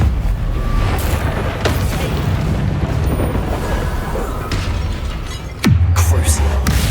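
A Confringo spell bursts in the video game Hogwarts Legacy with a loud, sudden boom and a deep falling rumble near the end, following a steady churn of combat noise and sharp impacts.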